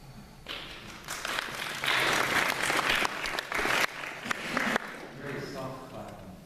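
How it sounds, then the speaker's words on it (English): An audience claps at a talk, the applause rising quickly, holding fairly full with some uneven patches, then fading into softer scattered clapping and voices. "Very soft clap."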